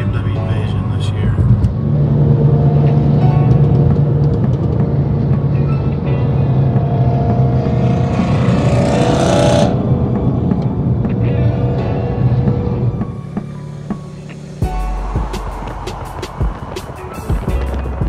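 A caravan of about fifteen BMW cars cruising on a highway: steady road and tire rumble from inside a moving car, with people talking over it before the sound drops away near the end.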